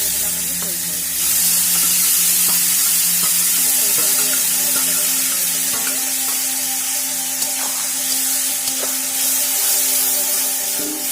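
About three cloves stirred in hot oil in a pan hiss and crackle steadily, with scraping stirs and small clinks repeating over a continuous close sizzle, no voices.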